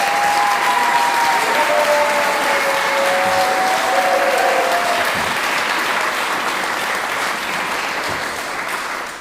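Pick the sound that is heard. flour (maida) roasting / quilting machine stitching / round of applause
round of applause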